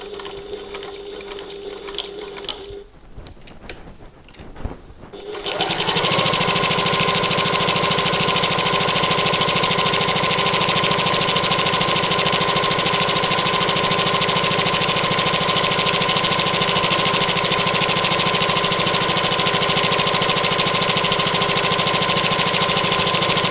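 A sewing machine runs in a long, continuous, loud whir while stitching along the edge of a fabric bag, following a few seconds of quieter handling at the start.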